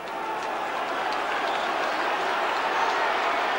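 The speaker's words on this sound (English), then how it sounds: "at last we hear some noise from the Leeds crowd" Leeds rugby league crowd at a home match against Hull, a distant, steady hum of cheering and clapping spread evenly across the stretch, moderately faint.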